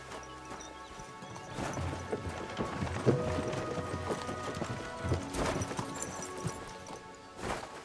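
Horse hooves clip-clop along at a steady walking rhythm in a video game, with creaking and rattling of tack or a cart mixed in.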